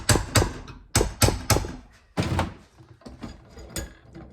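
Blunt chisel struck with a hammer against a piece of a Harley WL/Knuckle springer fork held in a vise: about ten sharp metallic blows in uneven clusters, close and loud, with no talking.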